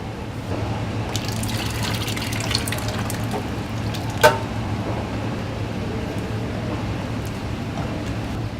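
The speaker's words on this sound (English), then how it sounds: "Now this wine is all evaporate, and we can put the tomato." Crushed tomato is poured into a pot of ragu for Sardinian gnocchetti, producing a steady liquid gushing and splashing sound at close range, with one sharp clink midway and no speech.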